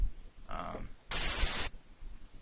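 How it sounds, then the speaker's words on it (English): A white noise layer for a supersaw synth plays as a short, bright burst of hissing static, alone and loud, after a brief tonal synth note. "the second thing that I do is I add white noise"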